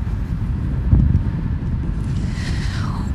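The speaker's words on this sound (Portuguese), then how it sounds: "Tem bastante vento também, né?" Strong wind gusts in Rio Grande during a flooding report, heard as a steady, loud rushing roar with buffeting rumble against the microphone and no talk.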